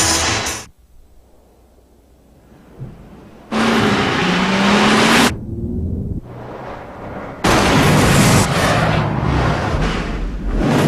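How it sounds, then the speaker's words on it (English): A supercharged 210-horsepower Nissan Xterra engine in a TV commercial, heard as loud revving bursts and roaring sweeps separated by quieter gaps. "The 210 horsepower supercharged Nissan Xterra."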